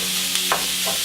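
Sausage browns in a pan, a constant close hiss of sizzling fat with a couple of short scraping stirs over about a second, no voices.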